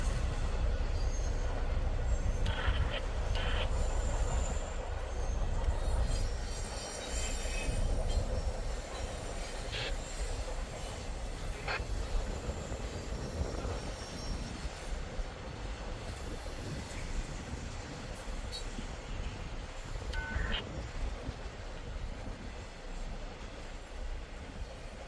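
A train passing by at a rail crossing in Berea, Ohio, a steady rumble of rolling railcars and wheels with occasional squeals, fairly distant and continuous, with wind noise over the microphone.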